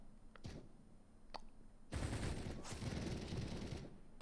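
SMG gunfire in a competitive 4v4 video game match, a couple of short isolated shots followed by a dense sustained burst of rapid fire lasting about two seconds.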